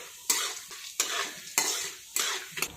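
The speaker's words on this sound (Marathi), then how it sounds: "मंद गॅसवरती परतायची, छान गुलाबी होईपर्यंत ही डाळ चांगली परतून घेऊयात" Pandharpuri dal roasting in oil over a low flame while being stirred, with four distinct scraping strokes spaced about half a second apart over a soft sizzle.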